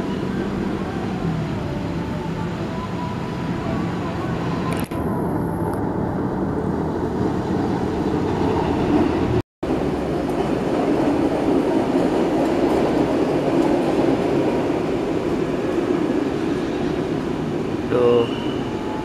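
A rail inspection trolley (lori) pulls away from the Garut station siding at Loji, giving a steady broadband rumble of rail running that holds throughout, with a brief dropout midway.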